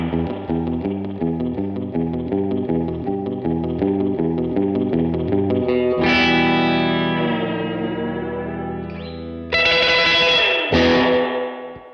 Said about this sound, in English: It's got that squishy, really like drippy spring sound too.